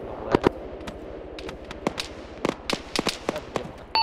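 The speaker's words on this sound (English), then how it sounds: "Yeah, there's someone shooting Alpha on the west." Scattered sharp gunshot cracks from enemies to the west in Arma 3, some single and some in quick pairs, irregularly spaced at mid distance over a steady low rumble, with no voices.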